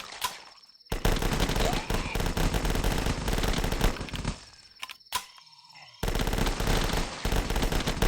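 Rapid automatic gunfire from a zombie shooter game, The Last Stand, aimed at SWAT enemies' heads, in loud sustained bursts broken by brief pauses and a few sharp single cracks, with faint electronic tones behind.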